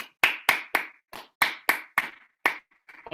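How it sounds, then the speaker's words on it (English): A short burst of clapping from workshop participants at a nature writing masterclass: about nine sharp, distinct claps in a loose rhythm, close by and fairly loud, tapering off at the end with no talk over it. "if everyone can give each other a round of applause really quickly"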